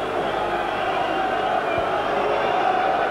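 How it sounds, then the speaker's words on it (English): A partisan crowd at a boxing match between Frank Bruno and Oliver McCall gives off a dense, loud, continuous roar of cheering and shouting that fills the space with no break. "this is an extremely partisan crowd"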